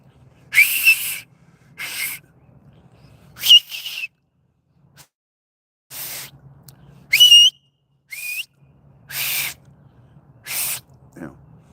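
A person whistles in short, shrill bursts, like blowing across an acorn cap, about eight separate piercing notes with gaps between them, some sliding in pitch, close and loud over a faint low hum.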